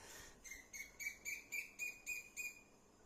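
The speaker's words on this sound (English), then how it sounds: "there's a cuckoo bird out there" Cuckoo birds calling outdoors in Vrindavan before dawn, a run of about eight short, evenly spaced tonal notes repeating in steady rhythm, clear but somewhat distant against a quiet background.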